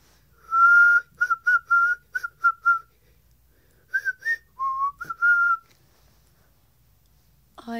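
A person whistles on the inhale, producing a string of short, bright, fairly loud whistled notes in quick bursts, with a few pitch shifts and brief gaps and no talk.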